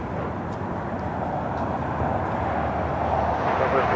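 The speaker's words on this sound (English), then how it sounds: "787-8 Dreamliner. La Polish Airlines coming in from Warsaw." A LOT Polish Airlines Boeing 787-8 Dreamliner arriving from Warsaw at Los Angeles airport gives a steady, broad jet roar that builds slightly, heard from a distance without speech.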